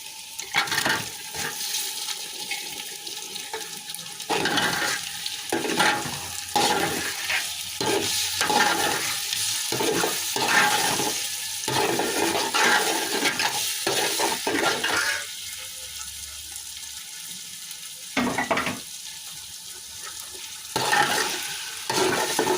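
Pre-boiled meat, pressure-cooked with a little salt, tumbles into a hot pan and is stirred steadily, with repeated scraping strokes over a constant frying sizzle that stays close and fairly loud.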